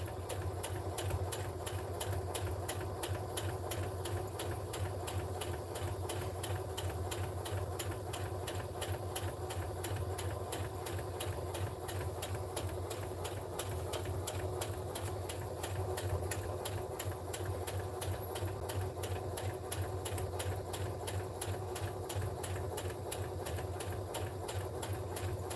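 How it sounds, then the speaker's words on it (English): A sewing machine stitches across the bottom of a lined fabric drawstring bag in one steady rapid run of needle clatter and motor hum, close and even throughout. "Pivot my fabric, and now I'm going to sew across the bottom."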